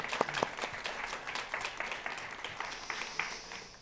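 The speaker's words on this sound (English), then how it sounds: "A polite round of applause." An audience at a student design awards event gives a short, polite round of applause, quiet and slightly distant, with a few sharper claps standing out at first.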